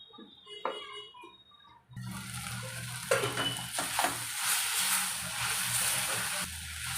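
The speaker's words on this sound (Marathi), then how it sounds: "वरती झाकण ठेवून एक दोन मिनटं मसाला आपण परतून घेऊया चांगला" Masala for a fresh cashew curry sautéing in a pan, a steady close sizzle with spatula stirs and light pan clinks, after a short quiet stretch with faint kitchen sounds.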